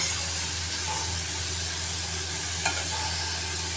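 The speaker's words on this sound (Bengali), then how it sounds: "এটা জাস্ট একটু নাড়াচাড়া করে আমি অন্যান্য সবজিগুলো অ্যাড করবো, জাস্ট একটু সতি করে নেবো" Chopped ginger and chilli sautéing in a pan, a steady soft sizzle and hiss with a faint scrape of stirring, one brief louder clink near the end, no talking.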